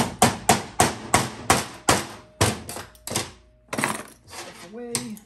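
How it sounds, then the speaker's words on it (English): A bushing driver is hammered to drive a bushing out of a Dodge 48RE automatic transmission during a rebuild. About a dozen sharp, close metallic strikes come in a quick series, then slow and grow uneven, with a brief voice at the end. "And then I'll kind of pound down on the bushing."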